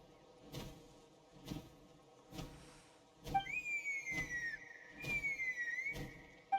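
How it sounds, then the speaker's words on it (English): A clear gliding whistle in Genshin Impact, a sustained tone that slides slightly in pitch, heard twice over a regular thumping rhythm in the background. "That sounded like a whistle."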